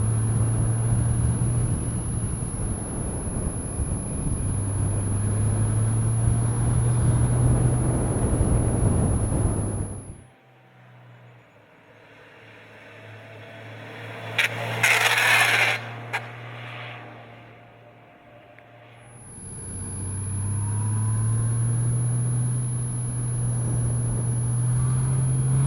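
A 2014 Honda F6C motorcycle engine on an onboard road ride gives a steady low drone with wind rush. It drops away to near quiet midway, then returns at the same level.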